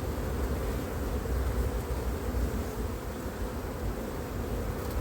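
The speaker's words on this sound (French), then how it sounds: "il y a beaucoup d'abeilles sur le toit aussi, c'est les abeilles qui sont perdues." Honeybees swarm and drone steadily around a hive on a rooftop, a dense, continuous buzzing from many insects close by that holds at a constant level throughout.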